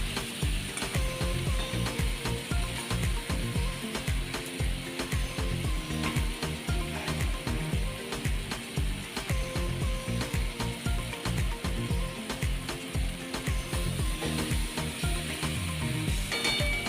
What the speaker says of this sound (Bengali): মাথার সাথে এবার মশলাটাকে আমি এখন কষানো স্টার্ট করব।